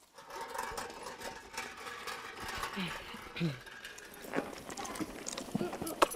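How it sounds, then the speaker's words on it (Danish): A team of four horses pulls a farm implement in the old way, their hooves clip-clopping in an uneven rhythm at moderate distance while people talk over them. "Derfor har de 4 heste, der er kørt til."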